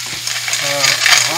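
Chili stir-fries in a wok, a short burst of bright sizzling with a few light clinks of the utensil against the pan, close and fairly loud.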